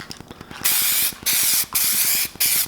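An aerosol can of etch weld primer sprays onto replacement rocker panels and cab corners of a Chevy Silverado truck in four loud hissing bursts, the can's mixing ball rattling rapidly before and between them.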